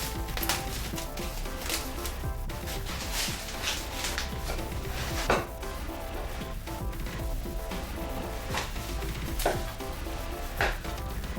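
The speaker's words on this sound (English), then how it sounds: "what you want to do is to cut it into tiny pieces and cubes" A knife chops potatoes into small cubes on a board, with steady repeated sharp taps and knocks at close range and no talking.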